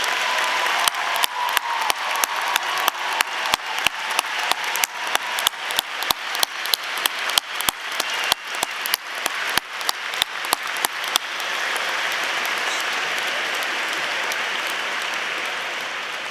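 At a 2024 Fort Defiance High School graduation ceremony in an arena, the audience applauds veterans. A run of sharp, evenly spaced claps leads into a dense, continuous wash of applause that carries to the end.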